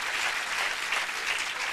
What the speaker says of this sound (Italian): per favore, non applaudite che mi fa male la testa